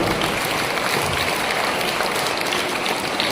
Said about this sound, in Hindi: तो जोरदार तालियां बज लीजिए जितना अच्छा प्रोग्राम हुआ।